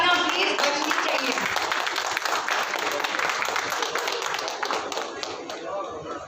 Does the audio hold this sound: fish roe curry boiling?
no